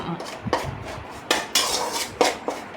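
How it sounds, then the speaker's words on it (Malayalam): Metal spatula scraping and knocking against a pan while roasting puttu rice flour on the stove, a series of sharp clanks and scrapes at irregular intervals, close and fairly loud. "ചട്ടകം വെച്ച് കുറച്ചധികം നേരം നല്ലപോലെ വറുത്ത് കൊടുക്കണം"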